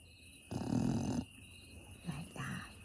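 A person imitates a snoring bear during a children's bedtime story, giving one long raspy snore followed by two shorter, softer breathy snores, close and alone over a faint steady background tone.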